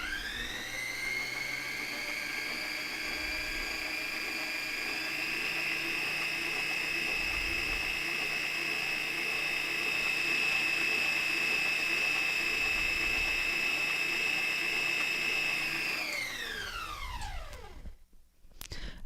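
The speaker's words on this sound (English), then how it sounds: "And I'm using the whisk attachment on the Snickerdoodle cookies." A stand mixer with a whisk attachment mixes snickerdoodle cookie dough on low, giving a steady whirring motor tone that holds evenly, then winds down and stops near the end.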